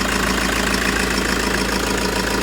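Car engine running after being cleaned with engine foam, a steady close idle with a rapid, even ticking pulse and no voices.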